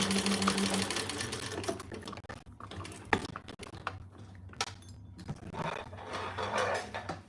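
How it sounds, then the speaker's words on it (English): A sewing machine stitches fabric, running in steady mechanical bursts with a brief reverse pass for back stitching, close and clear with no talking. "All right, let's sew that on. Back stitching good."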